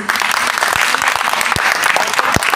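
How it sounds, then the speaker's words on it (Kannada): A loud burst of applause from a college theatre festival audience at a Kannada drama, dense and continuous clapping with a few sharper claps standing out. "ಜೋರಾದ ಚಪ್ಪಾಳೆ ಹಾಕ್ರಿ."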